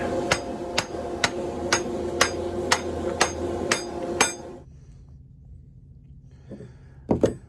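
A hammer strikes a 5/8-inch square steel bar about ten times in a steady rhythm, loud ringing metallic blows, then a pause and a final pair of quick strikes.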